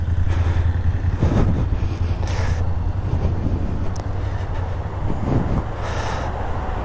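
Motorcycles pass along a roadside meeting point on a weekend, several engine swells rising and fading over a constant low traffic rumble, heard from the roadside at moderate distance.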